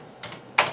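Two crisp keystrokes land on a Commodore 64 keyboard, close and clear, the second one sharper, with no voice over them.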